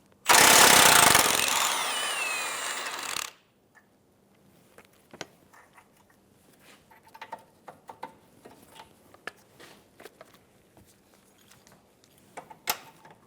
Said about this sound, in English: Using a 19mm wrench to hold the nut on top, and using a 19mm socket for the bolt head on bottom, we're going to remove the rear bolt for the control arm.